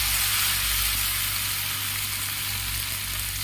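Chicken pakodi frying in hot oil, a steady, dense sizzle with constant bubbling hiss and a low background hum throughout, no voices.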